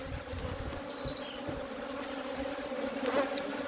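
Honey bees buzz around an open hive box, a faint steady hum with a few brief higher-pitched whines passing close by.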